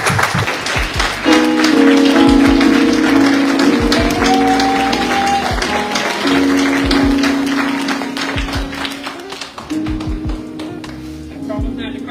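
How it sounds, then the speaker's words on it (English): An audience at a Women's Day event claps steadily in a sustained round of applause, with music playing underneath and voices mixed in. "please give a massive round of applause"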